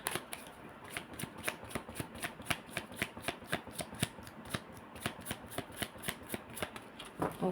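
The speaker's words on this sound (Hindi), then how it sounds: "My last shuffle." A deck of cards is shuffled close up, a fast, even run of crisp riffling snaps that goes on for several seconds.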